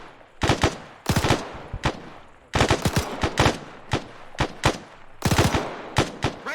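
Machine gun fire in the ArmA combat game comes in loud, sharp bursts of several rapid shots, separated by short pauses and repeating through the clip.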